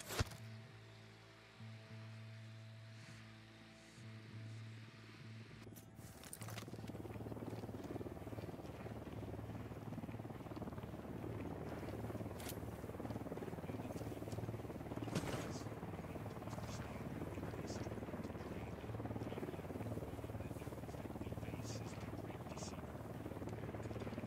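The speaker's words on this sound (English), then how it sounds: "Drone is airborne." A surveillance drone in the Ghost Recon Wildlands video game whirs into a steady, buzzing rotor hum that switches on after a few seconds and holds at an even, fairly loud level.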